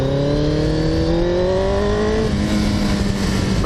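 Kawasaki GPZ900R motorcycle engine on a test ride, rising through the revs in a strong accelerating drone with heavy wind rush, close and loud, the pitch climbing then leveling off.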